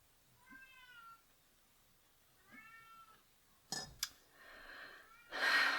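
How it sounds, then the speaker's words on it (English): A house cat meows twice from nearby, wanting into a room, followed by clattering thuds and a rustling burst. "one of my cats wants to get in the room"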